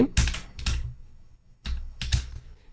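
A computer keyboard being typed on in two short bursts of quick, close clicks separated by a quiet pause, with no talking.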